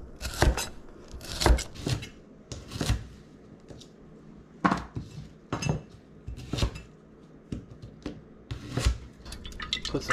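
A knife halves trimmed, skin-on rainbow carrots on a cutting board, giving sharp, irregular chops and clunks close by, with no talk.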